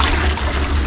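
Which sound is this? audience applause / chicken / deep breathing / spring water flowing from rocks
spring water flowing from rocks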